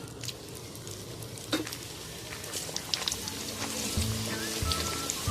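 Poori paratha fries in plenty of hot oil in an open wok, a soft, steady sizzle with scattered crackles and pops that thickens and grows a little louder toward the end, punctuated by a few light clinks.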